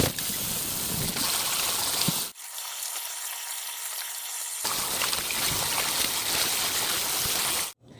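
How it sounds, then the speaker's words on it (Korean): Water splashes and trickles steadily as salted young cabbage is rinsed by hand for kimchi, close and continuous with a brief pause partway through. "이렇게 해서 한 3분 정도만 씻어주면 되겠습니다"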